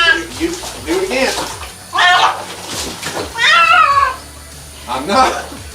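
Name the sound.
cat yowling loudly while being bathed in water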